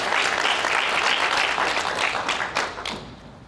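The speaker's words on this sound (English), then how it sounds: "let's give it a round of applause for Joe" An audience applauds a speaker at an SAE Southern California section event, with steady dense clapping that fills the room and then begins to thin and fade toward the end.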